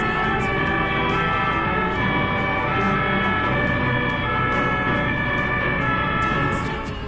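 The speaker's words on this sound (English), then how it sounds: "Here's how Germans react to ambulance sirens, instantly making way for the vehicle" An ambulance siren sounds loud and steady through the whole stretch, its tones held in a continuous wail over traffic noise as German drivers pull aside for the vehicle.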